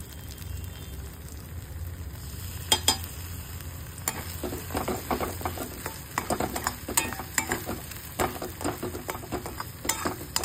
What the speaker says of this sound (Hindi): छान तेल सुटेपर्यंत तिला थोडं परतून घेऊया।